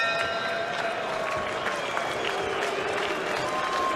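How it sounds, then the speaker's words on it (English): A boxing arena crowd at a 1997 Floyd Mayweather Jr. fight murmurs and jeers in disapproval, a steady diffuse roar of many voices with scattered claps. "Crowd showing some disapproval."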